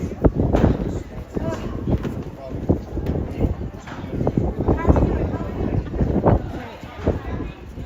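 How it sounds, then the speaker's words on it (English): Blustery wind rumbles against the microphone in steady low gusts at the Acropolis in Athens, with a voice talking intermittently over the buffeting. "Also very windy."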